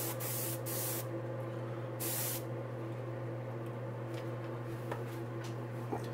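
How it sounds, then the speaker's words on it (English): Two short bursts of violet spray paint hiss onto fishing bait for a nebula colour pattern, each under a second, over a steady low mechanical hum. "we are going to spray that violet hue just like this over the bait"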